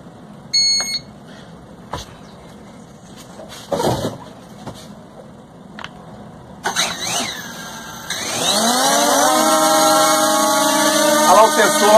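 A small electric motor on an SG908 Max drone whirs up to a steady high-pitched whine that keeps rising and holds, after a few scattered clicks and handling noises.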